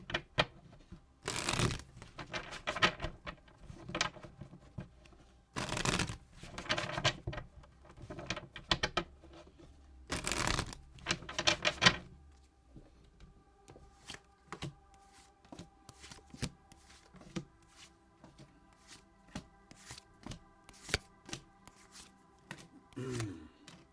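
Tarot cards shuffled by hand in three distinct bursts of riffling and flapping, each a couple of seconds long, close and fairly loud, followed by softer card handling and taps with no talk.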